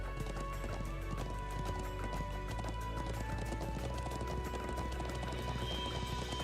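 Horse hooves clip-clop at a steady riding pace in the video game Trails of Cold Steel 2, a continuous rhythmic trot layered over game music and ambience, with a few neighs and no talking.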